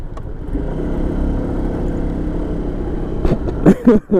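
A Vespa SXL 150 scooter engine pulls uphill with a steady mid-pitched drone under acceleration, close to the rider, followed by a few sharp knocks and rattles near the end.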